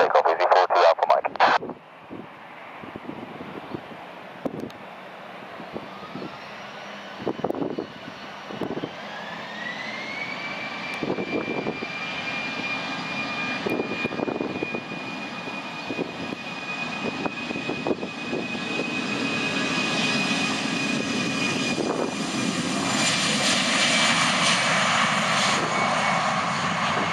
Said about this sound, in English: Clear for takeoff, Easyjet A319 Alpha Mike.